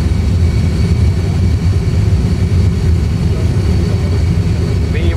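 Aircraft jet engines at takeoff thrust, heard from inside as a loud, steady low roar and rumble that stays continuous throughout with no break.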